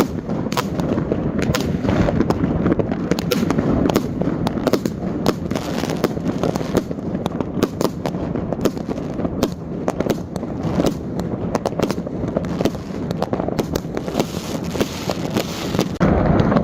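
A New Year fireworks display in Durrës city centre: a dense, continuous stream of cracks and bangs with a booming rumble and wind buffeting the microphone, loud and unbroken throughout.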